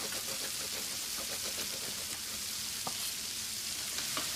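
Lamb sizzles steadily in a hot pan, a close, even crackle with small pops and spits, and no voices over it.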